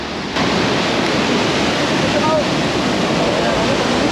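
Fast, ice-cold glacier meltwater stream on the Hemkund Sahib route rushes in a steady, dense roar, loud and close, with no break or change throughout.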